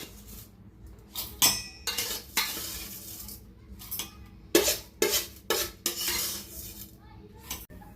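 A spoon stirs curd into roasting moong dal in a pan for shira, giving a series of irregular scraping strokes and clinks against the metal over a soft sizzle, close and fairly loud.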